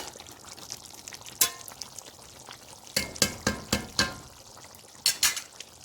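Spoon stirring black pepper chicken karahi in a pan over a high flame, a steady sizzle of oil with several sharp scraping clanks clustered near the middle and end, close and fairly loud, no talking.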